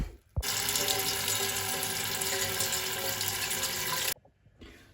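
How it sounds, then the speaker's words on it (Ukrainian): Cold tap water gushing into a container, a loud, steady rushing flow that starts abruptly and cuts off sharply after about four seconds, with quiet room sound before and after. "я набрала холодної води"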